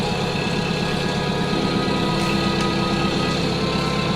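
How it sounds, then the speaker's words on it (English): A sailboat engine idles steadily while warming up at anchor, a constant close rumbling drone with an even mechanical hum and no talk over it. "Just have to wait a few minutes for the engine to heat up"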